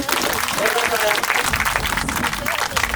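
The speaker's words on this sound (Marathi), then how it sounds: "जरा सगळ्यांनी शेतकरी बांधव जोरदार टाळ्या वाजवा." Farmers at a meeting break into applause, a loud, continuous patter of many hands clapping, with voices mixed in beneath.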